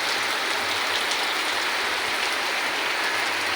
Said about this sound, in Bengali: আজকে গাইস অপূর্ব বৃষ্টি হচ্ছে